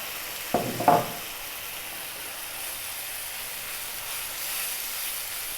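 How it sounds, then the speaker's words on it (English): Coconut milk goes into a pan of turmeric-spiced fish curry base with a brief splash and clatter, then a soft, steady simmering hiss continues on its own. "we're going to add 400 ml of coconut milk"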